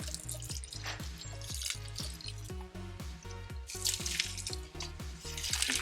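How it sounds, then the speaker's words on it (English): Water drains through fast-draining houseplant potting soil in a repotting pot, a rapid rhythmic stream of close drips and trickles that grows louder toward the end. "That's how it's supposed to be draining. That's fast draining soil."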